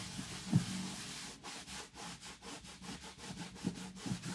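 Satin guitar cleaner is rubbed onto the satin finish of a Taylor GS Mini acoustic guitar. The cloth makes soft, quiet rhythmic swishing strokes, faster toward the end, with a few low knocks against the body.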